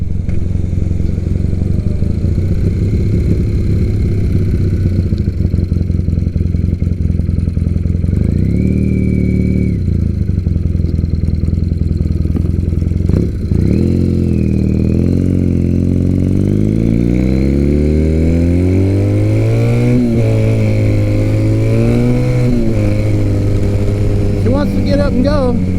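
A motorcycle engine runs loud and close, idling steadily, then revving up and down in several rising and falling sweeps.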